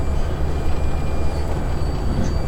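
Freight rail cars rolling through a switch in a hump yard at North Platte, Nebraska, a steady loud rumble of wheels on track with a low droning undertone and faint metallic squeals, no voices.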